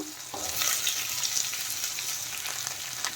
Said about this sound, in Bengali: এখন আলুগুলো দিয়ে দেবো আর এগুলো আমি পাতলা পাতলা করে কেটে নিয়েছি